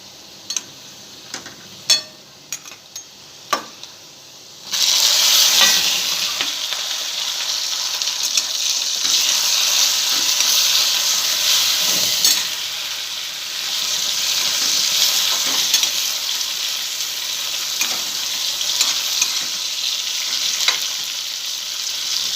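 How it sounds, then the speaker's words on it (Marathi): Tomato and coriander hit a hot pan already holding fried garlic, coconut and onion for a brinjal rassa. After a few light stirring clicks, a loud, steady sizzle bursts in and continues under scraping stirs. "आता आपल्याला ह्याच्यामध्ये घालायचं आहे टमाटो आणि कोथिंबीर घालायची"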